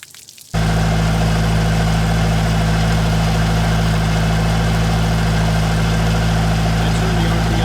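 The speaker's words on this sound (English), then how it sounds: "so I can now turn the boat on" A Bayliner boat's 3.0 MerCruiser inboard engine, running on a flush hose, starts up and settles into a loud, steady idle, a constant low rumble with a faint rhythmic throb throughout.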